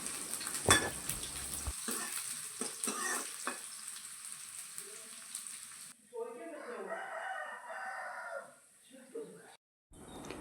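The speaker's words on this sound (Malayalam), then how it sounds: "എൻ്റെ അടുത്ത് ചെറിയുള്ളി ഉണ്ടായില്ല, അപ്പോൾ ഞാൻ സവാളയുടെ ഒരു ചെറിയ കഷ്ണം എടുത്ത് അരിഞ്ഞിട്ട് ഇതിലേക്ക് ഇട്ട് കൊടുക്കണ്ടേ. ഇതെല്ലാം ഒന്ന് മൂത്ത് വരട്ടെ." Chopped onion drops into hot oil with mustard seeds for a tempering, sizzling and popping sharply at first, then settling into a quieter, steady frying hiss.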